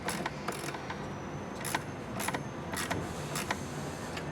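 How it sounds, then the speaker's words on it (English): A ratchet snugging an 8mm bolt on the alternator of a 2004–2008 Ford F-150 gives quick, sharp clicking bursts in short, irregular runs, close and fairly quiet over a steady low background hum. "we can just tighten that 8mm back on up"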